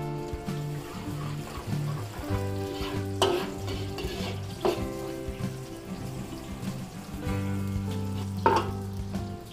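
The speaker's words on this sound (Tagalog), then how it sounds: "Gigisa tayo ng sibuyas at bawang." Onion and garlic sauté in hot oil for Filipino chop suey, a steady close sizzle with repeated spatula scrapes and stirring clatter throughout, a few sharper knocks of utensil against pan.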